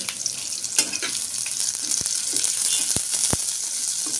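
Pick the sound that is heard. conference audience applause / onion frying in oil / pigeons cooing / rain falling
onion frying in oil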